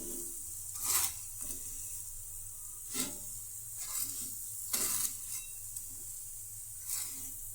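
Farali paratha roasts on a hot pan, faint sizzling over a steady hiss, broken by short scraping bursts from turning and pressing roughly every second.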